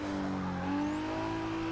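A race car's engine drones in Forza Motorsport 6, its pitch sliding as it drops a gear under braking, steady and close with a thin whine above.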